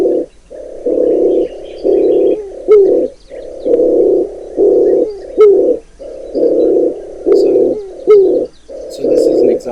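Adamawa turtle dove calling on the Amurum Plateau savanna: a loud, close series of low, hoarse coos in paired bursts, repeating steadily about every second and a half, with faint background birds and no speech.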